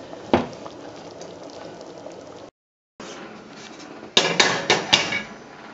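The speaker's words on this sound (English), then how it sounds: "now that it's boiling, we want to transfer it to the oven" Quiet bubbling water simmering in a pot for baked barley risotto, with a brief gap, then several louder clanks and knocks of cookware near the end.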